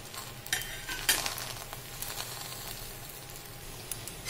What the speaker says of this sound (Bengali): পরোটাটা দিয়ে দিয়েছি, এবার আস্তে আস্তে এটা হতে দেব মিডিয়াম টু লো ফ্লেমে।